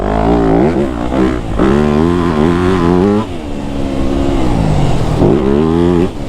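A 2025 Yamaha YZ250F dirt bike engine revs hard while freeriding on rocky trails, rising and falling in pitch through repeated throttle bursts and gear changes, loud and close throughout.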